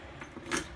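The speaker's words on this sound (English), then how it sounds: "Too many keys on this thing." A crowded ring of keys jangles briefly and quietly up close, a short metallic rattle with a brighter clink near the end.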